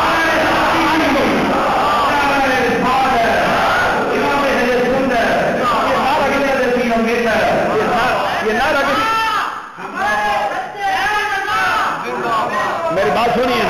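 A crowd at a religious gathering honoring Imam Ahmad Raza chants Subhan Allah in loud, massed voices that swell and overlap, briefly dipping near the middle before surging again.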